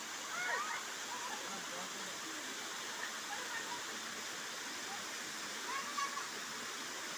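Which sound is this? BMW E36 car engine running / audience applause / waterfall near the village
waterfall near the village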